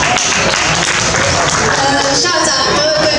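Applause from a banquet crowd at a parents' association president re-election and certification dinner in a Japanese restaurant, steady clapping throughout with a voice over it.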